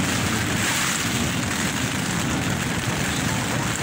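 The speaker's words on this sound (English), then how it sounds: "big gust of wind that just hit the tent from the west" Strong wind gusts battering a tent during a severe thunderstorm in the Alps, a loud, continuous roaring rush that fills the whole stretch without letting up.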